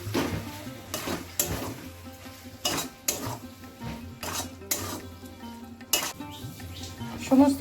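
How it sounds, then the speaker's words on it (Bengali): Prawns are sautéed with ground spices in a pan, a steady sizzle punctuated by repeated loud spatula scrapes and clanks against the metal, close up, with faint background voices. "সমস্ত গুঁড়ো মশলার সাথে চিংড়ি মাছটা দিয়ে খুব ভালো করে কষিয়ে নিয়েছি।"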